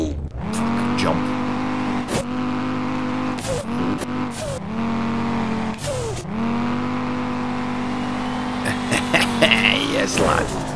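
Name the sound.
Audi TT drift car engine and tyres in video game SLRR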